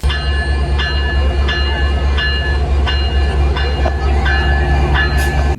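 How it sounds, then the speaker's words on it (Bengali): A passenger train hauled by 6600-series diesel locomotive 6636 rumbles close by with a loud, steady engine drone and a regular metallic clanking beat. "নেতৃত্বে রয়েছে লোকোমোটিভ ছেষট্টি ছত্রিশ এই টং টং আওয়াজটা"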